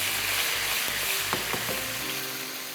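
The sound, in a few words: carrot and turnip pieces frying in a pot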